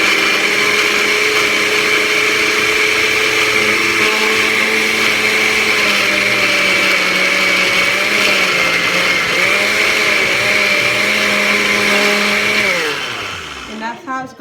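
A blender whirs loudly and steadily, liquefying sofrito with a splash of vinegar, its motor drone holding constant before winding down and stopping near the end.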